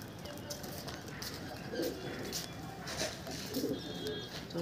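Soft pigeon coos repeat a few times at low volume over a faint background hum.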